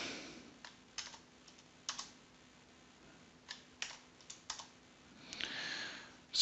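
Typing a search on a computer keyboard, with scattered sharp key clicks and short bursts of taps separated by pauses, close and fairly quiet with no talk.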